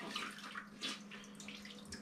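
Water runs quietly over a cleaning sponge being rinsed out in a sink during oven cleaning, a soft continuous splashing and trickling that stays faint throughout.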